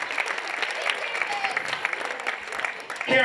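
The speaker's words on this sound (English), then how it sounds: "Let's give her a nice round of applause" Audience applause breaks out at a charity auction during the Hope Awards 2024, a short burst of crowd clapping that stays fairly even and swells slightly at the end.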